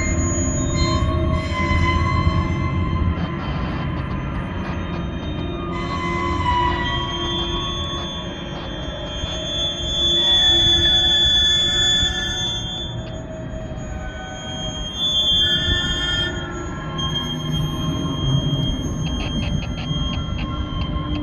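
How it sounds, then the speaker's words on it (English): A passing train carries into the hull of a shanty boat as long whining, moaning squeals that rise and fall over a low rumble for about twenty seconds. "I think that's from a passing train, and it's transferring the sound"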